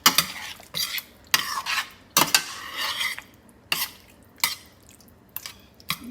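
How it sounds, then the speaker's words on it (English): A utensil stirs cheesy margherita pasta in a pan, making a run of sharp scraping and clinking strokes at an uneven rhythm over a soft sizzle, close up with no talk. "Just going to mix that in a little bit."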